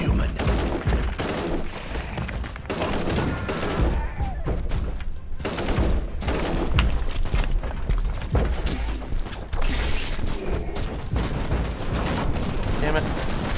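Dense, continuous gunfire and explosions from the Warhammer 40000 Inquisitor Martyr video game, with rapid bursts and booms filling the whole stretch and voices talking over the battle.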